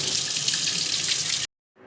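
A gas stove burner is rinsed under a running tap, giving a steady close splashing hiss of water that cuts off abruptly near the end, leaving brief silence before a faint trace returns.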